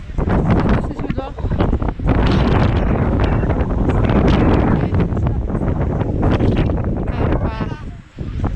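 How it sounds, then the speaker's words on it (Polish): Strong gusts roar across the microphone on a mountain trail on Babia Góra, loud and buffeting throughout, with a voice briefly heard beneath the wind. "No trochę wieje"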